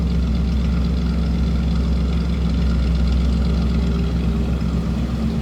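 A 1956 Buick Special hardtop engine idles steadily nearby, a constant low rumble with an even hum and no revving.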